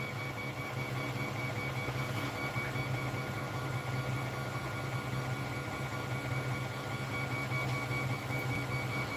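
A 3D printer runs with its nozzle held at 245 degrees, giving a steady low mechanical hum and whirr of stepper motors with faint tonal whines, continuous and fairly quiet throughout.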